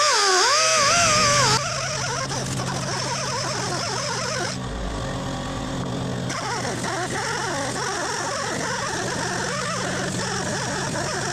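An air compressor runs continuously in an engine rebuild workshop, a steady mechanical drone with a brief dip partway through, close and unbroken with no talking.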